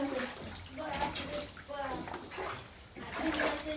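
Flood water in Siliguri splashes and sloshes continuously nearby while several people talk, including a voice, over the watery churning.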